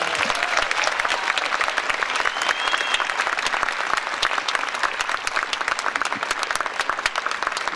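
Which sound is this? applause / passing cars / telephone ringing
applause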